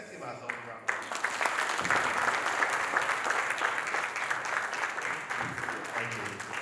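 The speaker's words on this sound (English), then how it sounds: "Let's give ourselves a round of applause." Audience at an African nonprofit summit breaking into applause after a brief quiet start, sustained clapping from a large crowd that stays strong and even to the end.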